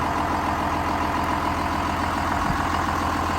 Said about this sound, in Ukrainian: Легендарний трактор 6920, який показав себе роками в роботі.